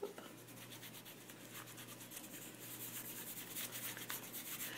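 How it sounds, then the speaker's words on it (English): Fingers rub Gelato crayon color into paper on a butterfly card, giving a soft, steady dry scrubbing that runs close and quiet throughout, with faint rhythmic strokes and a low background hum. "And then I use my fingers and I rub it in."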